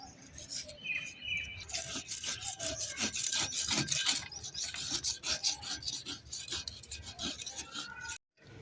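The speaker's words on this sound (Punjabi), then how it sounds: "ਫਿਰ ਵੀ ਨਾ ਛੁਰੀ ਦੇ ਨਾਲ ਲਾ ਦਿੱਤੀ, ਖੁਰਚ ਦਿੱਤੀ" A knife scrapes and rasps against hardened clay packed around a pan, in repeated short rough strokes close up, with faint bird chirps in the background.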